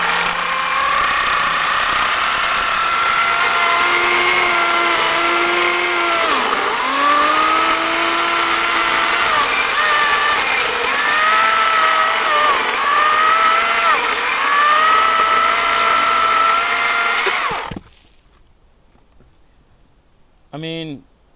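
Wild Badger battery-powered electric chainsaw cutting through wood, a loud steady high whine with the pitch dipping under load, running for about eighteen seconds before cutting off to near silence and a short final burst.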